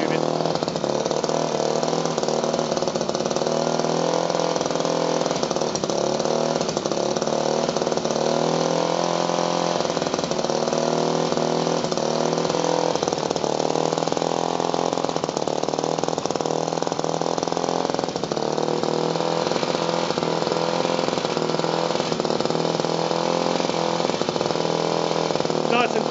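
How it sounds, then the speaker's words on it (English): A small petrol engine on a 3.5 inch gauge 2-4-2 model locomotive with a friction clutch and band drive runs continuously at a steady buzzing idle, close and fairly loud, with no pauses. "There's a petrol engine running."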